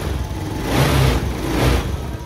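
A motorcycle engine runs after a fuel pump repair, a steady mid-pitched idle that swells twice in gentle revs, close and fairly loud with no talk.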